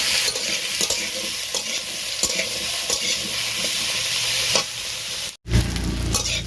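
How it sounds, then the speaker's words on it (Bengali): Vegetables frying in a pan, a constant close sizzle with intermittent clicks of stirring, briefly cutting out before resuming loudly. "এদিকে আমার তোমার সবজি ভাজা হয়ে গেল"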